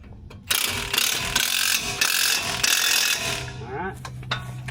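A ratchet clicks rapidly and continuously while tightening bolts on Eibach rear heavy-duty springs on a Ford Bronco, loud and close, slowing to a few final clicks.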